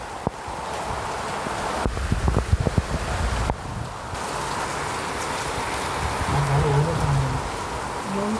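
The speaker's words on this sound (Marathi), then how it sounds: "पाऊस चालला ना पाऊस अजून होता" Rain falls steadily at a seaside jetty, a continuous hiss mixed with wind buffeting the microphone, a few sharp knocks, and faint voices in the background.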